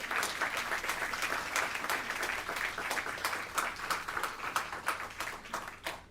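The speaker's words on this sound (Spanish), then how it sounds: "Primer aplauso en todo el mensaje" A church congregation applauds during a sermon, a dense, steady wash of many hands clapping that holds for several seconds and thins out at the end.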